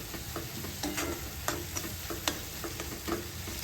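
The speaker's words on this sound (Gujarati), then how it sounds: "આ બધું ઉમેરી સારી રીતે આપણે તેને મિક્સ કરી લઈશું." Dal mixture cooking in oil for Sindhi dal pakwan is stirred in a pot, with soft sizzling underneath and a series of quick scraping, clinking spoon strokes close by, no speech.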